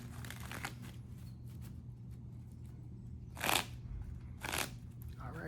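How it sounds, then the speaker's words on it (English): A tarot card deck shuffled by hand, with soft riffling and rustling early on and two sharp, louder bursts of cards snapping together later, all close and quiet. "the deck is getting hard to shuffle."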